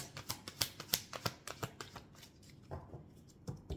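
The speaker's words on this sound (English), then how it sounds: "I have shuffled these cards quite a bit" A deck of tarot cards being shuffled by hand, a quick run of sharp riffling clicks and snaps in the first half, then softer scattered flicks, close and clear with no talking.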